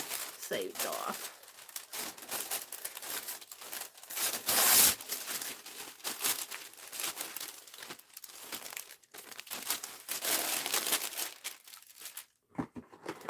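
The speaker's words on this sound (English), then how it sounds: "I guess I should get some wax paper out." Wax paper crinkles and rustles steadily as it is handled, close and fairly loud, with a sharper burst of crumpling near the middle and brief pauses toward the end.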